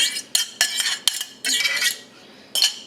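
Spaghetti carbonara with egg being tossed quickly in a pan, a series of bright close metallic scrapes and clatters from utensils against the pan, in bursts with short gaps.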